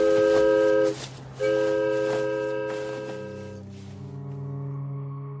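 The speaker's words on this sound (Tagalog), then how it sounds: "Sumakay na sina Sylvia nang dumating ang tren." A passenger train arrives with a long, loud, multi-tone horn blast, a brief gap, then a second sustained blast that fades while the rumble of the rail cars continues underneath.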